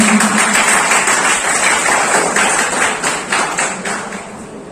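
A crowd at a National Engineer's Day university celebration in Bhagwanpur, Bihar applauds a dance performer, a loud, sustained wash of many hands clapping that tapers slightly toward the end.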